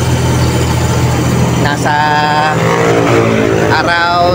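A Toyota Corolla 2E engine runs at a raised idle just after a cold start, a loud, steady drone close by while someone talks over it.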